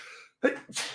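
A single close sneeze bursts out during a sports talk show recording, sharp and breathy with a brief second gust right after, with no talking over it.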